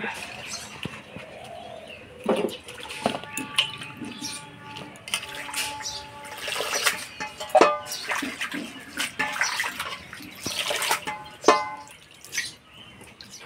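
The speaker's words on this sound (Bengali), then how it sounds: "এবার ফুলকপি আর লাউ পাতাগুলো ধুয়ে নেব।" Running water splashes and drips as cauliflower and bottle gourd leaves are washed by hand, irregular sloshing and trickling up close, with pigeons cooing and occasional voices in the background.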